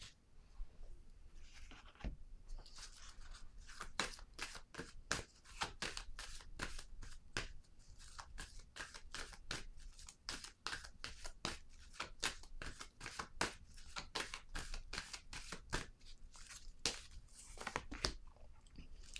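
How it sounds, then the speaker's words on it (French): Tarot cards are handled, drawn and set down on a table, giving a quick, irregular series of close crisp snaps and soft slides at low volume. "je vais piger une carte pour déposer ici"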